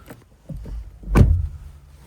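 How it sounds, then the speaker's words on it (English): A door on a 2025 MG ZS Hybrid+ car shuts with one solid, close thump after a brief rustle of movement, followed by quiet. "I will close the door."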